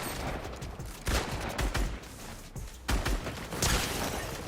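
Gunfire from a shooting video game, set in a match against a cheating player using aimbot and wall hacks: several loud, sharp bursts of shots arrive in irregular clusters, each ending in a brief crackling tail.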